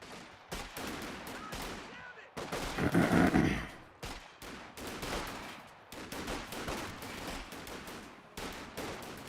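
Infantry trade gunfire in the video game Company of Heroes 2, with rapid bursts of rifle and machine-gun shots crackling in repeated volleys and a heavier swell of fire near the start.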